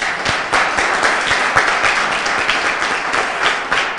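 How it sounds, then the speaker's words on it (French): A clear burst of audience clapping during a school quiz contest between two schools, loud and close, with individual claps standing out in an even, sustained stretch. "Applaudissez."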